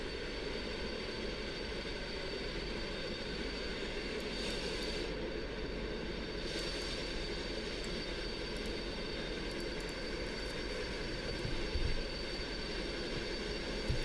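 Simulated Concorde jet touching down at Kai Tak in X-Plane 11, a steady loud engine roar with broadband rumble throughout, unbroken and close, with a faint thump near the end.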